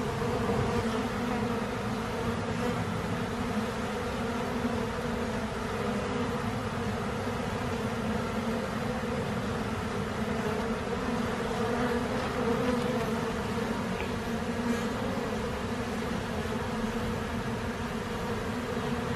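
Many honeybees still clustered on the outside of a hive box hum in a continuous, close, evenly loud buzz that never pauses or changes.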